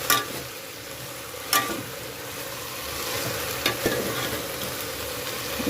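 Okra sizzles steadily in a hot pan, close and continuous, broken by a few sharp clanks and scrapes of a spoon stirring, with no talking.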